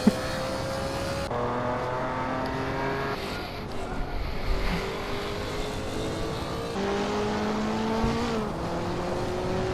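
Racing car engines in a Hot Wheels racing game, drag racing down a straightaway: sustained high engine whine with rising gear-shift pitch sweeps, several cars droning together at close range.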